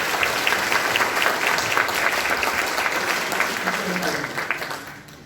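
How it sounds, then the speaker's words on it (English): Theatre audience giving a round of applause to ushers before a community show begins, a full, sustained sheet of clapping with some crowd voices, tapering off toward the end. "I would like you to give them a round of applause"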